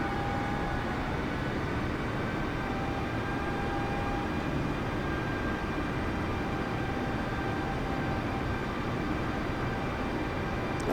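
An Airbus A320 in a flight simulator game rolls forward for takeoff, a steady broadband engine roar with faint whining tones that holds loud and even throughout.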